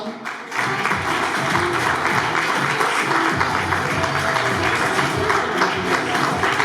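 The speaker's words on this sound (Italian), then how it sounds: "un altro forte applauso" Audience applause at a beauty pageant held at a villa, a loud, full round of clapping from a crowd that starts abruptly and carries on steadily, with some voices underneath.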